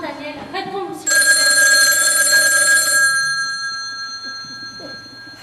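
A telephone rings on stage during an amateur theatre play, a bright metallic bell ring lasting about two seconds then fading, with voices of actors talking before and after it.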